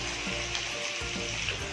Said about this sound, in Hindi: देखिए ऑयल गरम हो चुका है, अब इसमें हम 1 by 1 ये कोफ्ते ऐड कर देंगे।